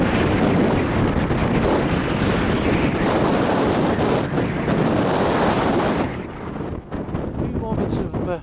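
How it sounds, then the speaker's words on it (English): Strong wind buffets the microphone at Whitby Abbey, a loud, continuous roar of gusts over open cliff-top ruins, easing slightly near the end. "Unfortunately the wind is really very bad."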